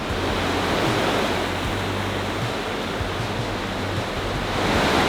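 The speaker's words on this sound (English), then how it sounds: "Right here behind me is where the Grizzly Creek meets the Colorado River." Rushing water where Grizzly Creek meets the Colorado River in Glenwood Canyon, a steady broadband roar of flowing current, close and continuous with no voices.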